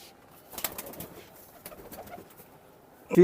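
Tippler pigeons in an Indian pigeon loft give soft, scattered coos and rustles nearby, with a louder burst at the end.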